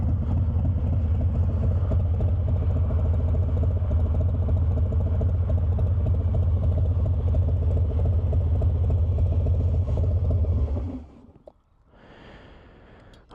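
A 2019 Harley-Davidson Fat Bob motorcycle with a new exhaust rumbles loudly at a steady idle for about ten seconds, then cuts off, leaving quiet ticking.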